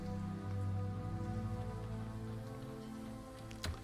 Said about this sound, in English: Especially whilst it's raining.